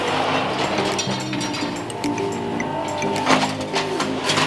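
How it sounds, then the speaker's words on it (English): A fabric-rolling machine runs in a tent factory, giving a continuous loud mechanical whir with ratcheting, gear-like clicks and layered tones throughout. "they're put onto that machine over there, and then the fabric is rolled out."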